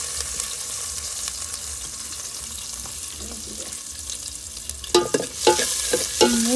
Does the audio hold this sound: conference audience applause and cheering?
no